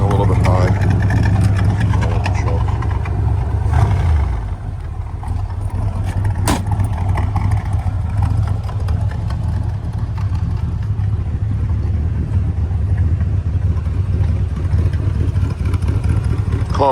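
A 1964 Corvette convertible with a 327 V8, four-speed and side pipes idles slightly high, a loud, close, steady rumble throughout while someone talks over it.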